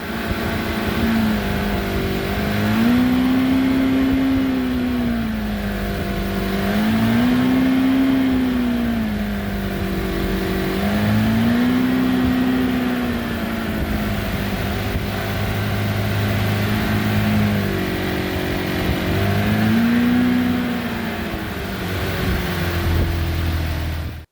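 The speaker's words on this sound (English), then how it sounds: "this is a 1995 Evinrude 88 Special, and it's a carbureted motor" A 1995 Evinrude 88 Special carbureted outboard motor runs loudly nearby, its steady drone repeatedly surging up and sagging back in slow waves as it struggles to hold speed.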